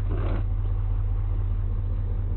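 A truck engine idles steadily at night, a low, constant rumble close by with no voices over it.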